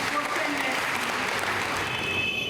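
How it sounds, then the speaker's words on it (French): Sustained applause fills a chapel after Sunday Mass, a dense, steady wash of clapping from the congregation that holds at an even level throughout. "Sous vos applaudissements"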